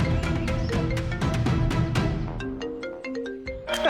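A mobile phone rings with an incoming call, its bright melodic ringtone of repeated electronic notes playing loud and close for several seconds with no one talking over it.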